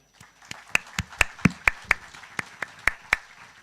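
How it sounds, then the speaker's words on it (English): A conference audience claps in unison as asked, a dozen sharp, evenly spaced claps ringing out in a large hall with little else around them. "Can you clap your hand?"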